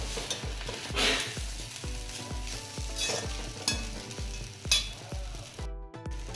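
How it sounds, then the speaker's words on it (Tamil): Upma being stirred in a hot pan after lemon juice goes in, a steady rhythmic scrape of the spoon against metal with a light sizzle underneath, each stroke repeating about once every half second, close and clear with no talking. "லெமன் ஜூஸ் ஆட் பண்ணதுக்கப்புறம் நல்லா மிக்ஸ் பண்ணிக்கலாம்."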